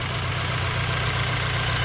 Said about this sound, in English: You can hear our injection pump crickets